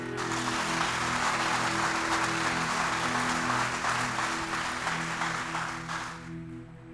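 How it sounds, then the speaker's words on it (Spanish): A church congregation claps loudly and continuously during a sermon while sustained organ or keyboard chords ring underneath, the applause fading away near the end. "Aplaude al Espíritu Santo."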